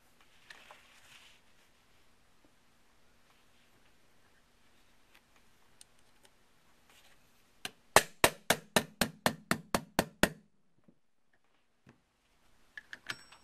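A hammer drives a pin out of a Winchester Model 88 .308 lever-action rifle, with about a dozen quick, sharp metallic taps in a steady burst. A few softer knocks come before and after over a quiet bench.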